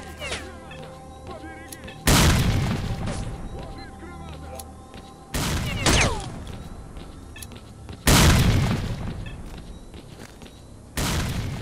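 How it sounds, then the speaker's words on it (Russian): Grenade blasts in the S.T.A.L.K.E.R. Clear Sky game, four loud, broadband booms a couple of seconds apart, each with a rumbling tail, set against quieter gunfire and voices. "Граната!"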